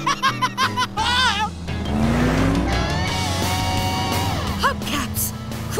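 A cartoon racing monster truck's engine roars toward the finish line, loud and continuous with rising revs and a tire squeal, over excited cartoon voices and music.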